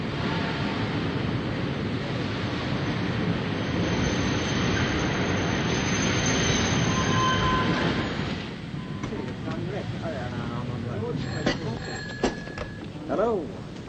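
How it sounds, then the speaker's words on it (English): A train pulls into a station with a long, loud rushing roar that cuts off abruptly partway through, followed by quieter station noise, a bell and people talking. "Train's coming in now."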